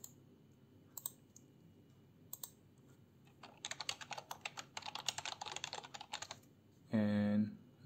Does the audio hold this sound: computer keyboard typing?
yes